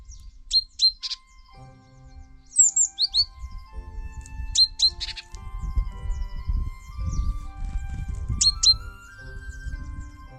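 Field sparrows near a farmstead birdhouse in the morning give short, high chirps in scattered pairs and clusters, fairly close, over low rumbling background noise.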